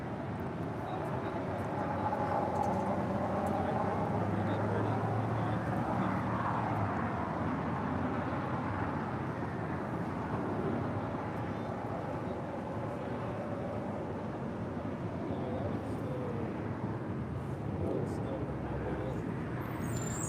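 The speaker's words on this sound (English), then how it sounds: "A380 Super now in short final for 24 right" Airbus A380 on short final for runway 24 right at LAX after a long flight from Dubai, a steady distant jet rumble and whine that persists throughout.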